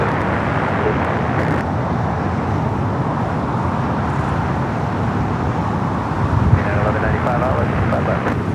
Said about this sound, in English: Just had an Air Mexico 737 MAX 8 coming from Mexico City, just touching down here on the south side.